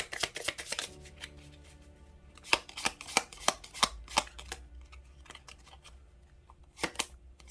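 Tarot cards being shuffled and drawn, with a run of quick riffling at the start and then a handful of crisp, separate snaps as single cards are set down, close and fairly quiet with no voices.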